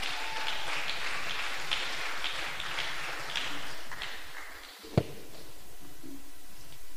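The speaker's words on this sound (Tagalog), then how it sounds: "Palakpak para sa Dios" A church congregation claps in praise to God during a Saturday sermon. The applause is sustained and moderately loud, with a single sharp thump near the end as the clapping begins to thin.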